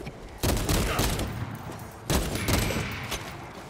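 Heavy gunfire in Space Marine 2, two loud bursts of rapid shots, each starting with a sharp blast and tailing off, close and forceful.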